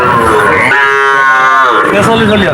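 Cattle at a village livestock market: a single loud, close moo rises and falls over about a second, while people talk nearby.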